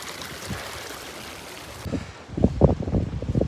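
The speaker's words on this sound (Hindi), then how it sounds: "कल कल बहते हुए पानी की धाराएं" Water rushes steadily in a mountain stream in the Pangi Valley, a continuous near wash that swells louder and rougher in the second half with splashy bursts.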